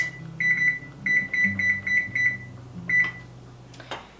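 Oven control panel beeping as it is set to preheat to 400 degrees: a quick series of close, sharp electronic beeps in small clusters, then one more beep after a pause.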